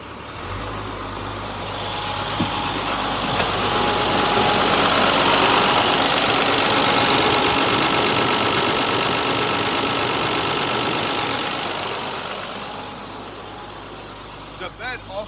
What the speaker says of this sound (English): Engine sounds good. I'll rev it up so you can hear it.